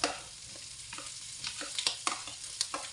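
Onions frying in a pan give off a soft continuous sizzle, broken by a run of quick clinks and scrapes as they are stirred around.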